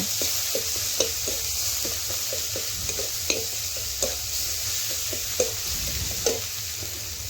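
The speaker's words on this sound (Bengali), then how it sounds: "এখন ভালোভাবে নাড়াচাড়া করে পেঁয়াজের সাথে মশলা একটু ভেজে নেব।" Onions frying with chilli powder and turmeric in a pan while being stirred, with a continuous close sizzle and a quick, regular run of spoon scrapes and taps, no talking.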